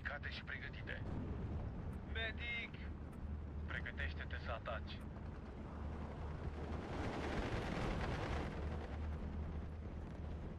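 Battle noise from the video game Steel Division 2, with rumbling artillery and scattered gunfire blasts at moderate level, plus a swelling roar partway through, while a player talks over it.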